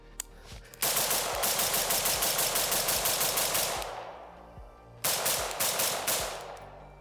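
A resto-mod M16A2 rifle, set up as an automatic rifle, fires two long bursts of rapid automatic fire outdoors, each a fast, even string of loud cracks, separated by a short pause.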